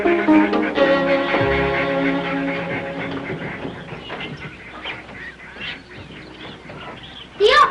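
A flock of many ducks quacking and honking together in a dense, overlapping chorus that carries on throughout, with one sharper, louder call near the end and no clear talk.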